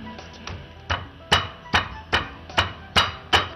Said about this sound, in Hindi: इसमें ये नमक और इसे अब कूटना है